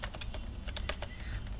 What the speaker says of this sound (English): after that you need to type this command sudo apt add apt repository